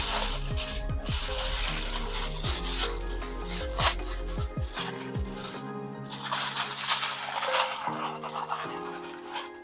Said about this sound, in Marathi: इथे मी एक ॲल्युमिनियमची फॉईल घेतलेली आहे ही यावरती व्यवस्थित लावून घेऊया